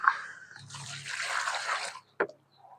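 A cow drinking water heavily, with a steady slurping, splashing wash of liquid for over a second, then a single sharp splash and quiet trickling after; no talking.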